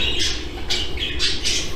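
Show jumbo budgerigars give a rapid series of four or five harsh squawks nearby, over a steady low background rumble.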